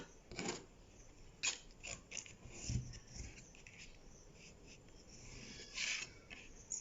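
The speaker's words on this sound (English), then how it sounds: "So I'm going to draw the curve to meet it." Chalk or marker scratches across fabric in short strokes as a curve is drawn while sewing a kimono-style dress, faint and close with quiet gaps between the strokes.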